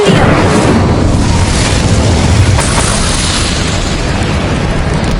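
Incendio fire spell cast in a Harry Potter video game, a loud, dense roaring burst of fiery noise that fills the whole stretch without letup, with a steady low rumble underneath.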